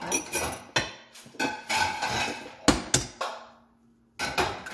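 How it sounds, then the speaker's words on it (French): A fork clinks and scrapes against a bowl while stirring quiche filling, several sharp metallic taps and rattles coming close together, with a pause before a final burst. "Je vais prendre une fourchette pour touiller."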